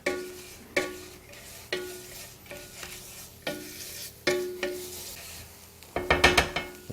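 Lemongrass curry paste is stirred and mushed around in a pan, giving a series of distinct scraping strokes about once a second with a soft sizzle underneath, growing busier and more rapid near the end.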